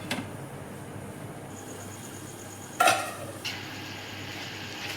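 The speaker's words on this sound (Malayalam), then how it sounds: "അതിങ്ങനെ വീണ്ടും ഇളക്കിക്കൊണ്ടിരിക്കുകയാണ്." Turkish keema with tomato being stirred in a pan, a low frying sizzle running under a few sharp scrapes and clinks of the spoon, one loud knock near the middle.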